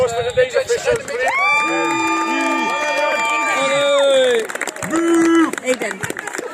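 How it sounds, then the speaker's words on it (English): After a U14 girls' league shield presentation, the team cheers and whoops for the match officials. Excited, high-pitched voices rise and fall together, with some clapping and crowd noise, loud and close. "Can I have a big round of applause for today's officials, please?"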